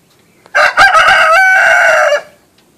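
A quail gives a single loud, close crow lasting over a second, a bright rising-and-holding call, with quiet surroundings before and after.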